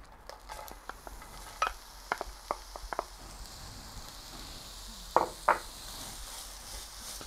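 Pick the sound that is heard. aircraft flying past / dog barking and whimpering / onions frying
onions frying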